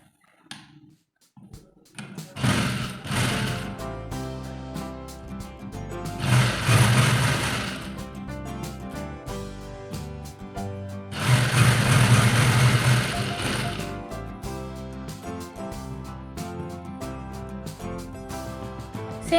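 A sewing machine stitches a ladies shirt in two loud, sustained whirring runs separated by a quieter stretch of lighter mechanical handling, all heard close by.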